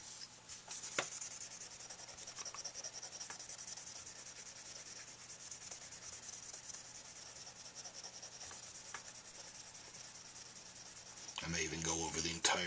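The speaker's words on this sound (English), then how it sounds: "After I see nothing but sanding marks from this sandpaper, I switch to 4-0 steel wool." Fine 0000 steel wool rubbed steadily across a hand-made tenor saxophone mouthpiece, a soft continuous scratchy hiss at close range with no talk, turning louder and coarser near the end.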